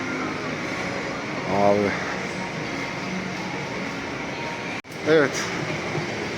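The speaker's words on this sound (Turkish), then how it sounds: "Şimdi bakın tren geçiyor." Tram passing by in Singapore, a steady low mechanical rumble and hum of the rail vehicle, with someone briefly talking over it and a handling knock near the end.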